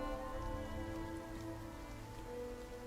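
Steady rain falls on a surface as a continuous, even ambient effect during a Call of Cthulhu tabletop role-playing session, with a soft patter and faint low rumble and no voices.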